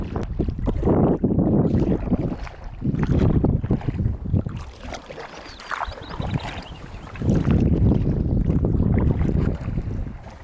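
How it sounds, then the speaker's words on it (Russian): Strong wind gusts buffet the microphone in heavy, rumbling bursts that rise and fall, loud and close, with brief calmer gaps between blasts. "наверное, вообще не слышно то, что я говорю, потому что порывы ветра адские"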